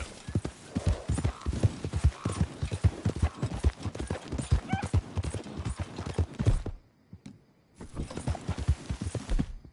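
A horse's hooves clip-clop in Red Dead Redemption 2, a dense, steady rhythmic gait up close, with a brief near-silent gap before the hoofbeats resume.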